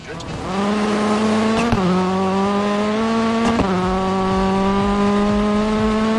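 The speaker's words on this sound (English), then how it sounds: "each time you change up a gear, you get a pop and a bang combined with flames coming from the exhaust" Rally car engine in the EA Sports WRC video game, loud sustained revving that climbs steadily, broken by two sharp exhaust pops and bangs at each upshift, followed by the pitch dropping and building again.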